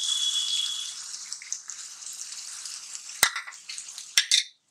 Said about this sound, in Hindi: अब इसे हमें अच्छे से भूनना है।